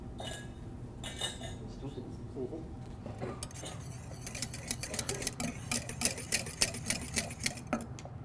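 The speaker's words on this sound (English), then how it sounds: "So you see the gelatin, stirring the gelatin." Gelatin being stirred in a pastry kitchen: a utensil scraping and clinking against a bowl, slow at first, then speeding into a fast, regular rattling whisk rhythm, close and moderately loud.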